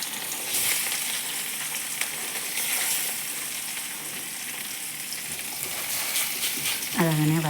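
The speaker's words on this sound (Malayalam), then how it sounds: "ചെറിയ മീൻ വറുത്ത" Small fish rubbed with chili powder and salt fry in a pan with a constant bright sizzle and occasional crackles, and a brief voice-like sound comes near the end.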